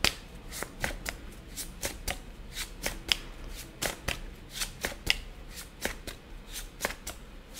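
Tarot cards are shuffled for a reading, with quick crisp riffles and snaps repeating in an uneven rhythm, close and fairly quiet, with no talk.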